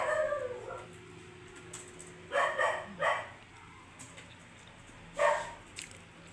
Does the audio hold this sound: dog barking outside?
yes